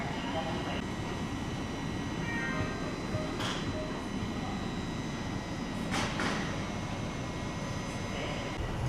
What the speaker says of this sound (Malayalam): നമ്മുടെ സബ്വേ ട്രെയിൻ ഇങ്ങനെ പോയിക്കൊണ്ടിരിക്കുകയാണ്